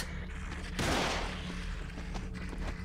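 A gun fired in The Evil Within, a single loud, broad blast that cuts in sharply and decays over a fraction of a second, set against a low rumbling game ambience.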